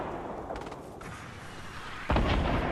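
Gunfire crackles in a Fortnite match, with muffled distant shots and a louder burst near the end over steady game ambience.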